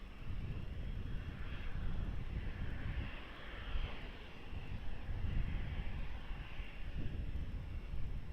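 Broad, steady rumble and roar of an airliner's engines as the aircraft lands on runway 20 at Lisbon airport, sustained, moderately distant, with no voices.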